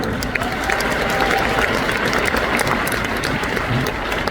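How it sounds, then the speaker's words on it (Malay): Sustained applause from a crowd at an Amway recognition event in Kuala Lumpur, steady and loud throughout, with a few voices faintly mixed into the clapping. "Tepukan untuk anak-anak kami."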